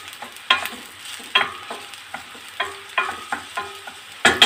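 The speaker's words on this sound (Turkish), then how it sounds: "Soğanlarımızla birlikte güzelce kavuracağım." Onions sautéing in hot oil in a pan, a soft sizzle beneath repeated scraping and clattering strokes of a spoon, irregular stirring knocks close up.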